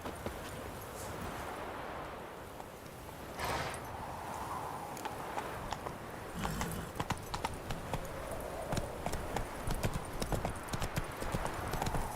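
Roach, a horse in The Witcher 3 video game, gallops with rapid, rhythmic hoofbeats on the ground, steady and fairly close over a quiet background.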